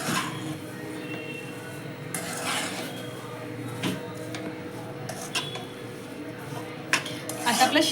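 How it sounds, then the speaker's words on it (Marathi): Saffron milk being stirred into sheera for a Ganesh festival offering, with a spoon scraping and clinking against a metal pan in irregular close taps while someone talks quietly over a low background hum. "आणि आता हे छान मिक्स करून घेते."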